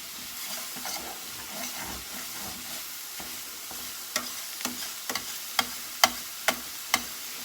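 Stuffing ingredients fry in a pan with a soft, steady sizzle and occasional stirring, and a handful of sharp pops and crackles break through near the end, quiet and close.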